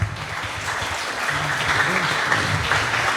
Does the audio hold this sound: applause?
yes